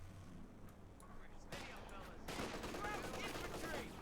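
Bursts of .50 cal machine gun fire rattle in the World War II strategy game Company of Heroes 2, sitting under a low, steady backdrop of battle noise and growing denser toward the end.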